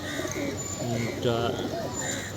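Pigeons coo softly in a loft, repeated throaty warbling calls close by, with someone talking over them.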